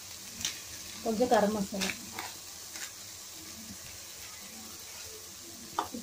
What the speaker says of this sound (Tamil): உருளைக்கிழங்கு நல்லா ஃப்ரை ஆயிடுச்சு